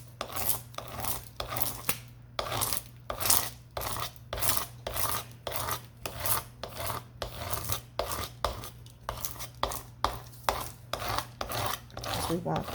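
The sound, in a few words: scraper scraped over resin with printed images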